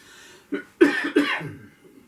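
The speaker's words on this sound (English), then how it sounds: "I just about to cough, could you forgive me?" A few harsh coughs in quick succession, close and fairly loud, with a short pause between bursts and quiet afterward.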